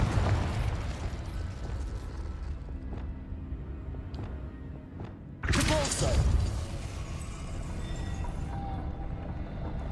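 A Confringo spell explodes in Hogwarts Legacy, a sudden loud broadband blast that rises abruptly mid-clip and fades over about a second, over continuous game ambience and background noise.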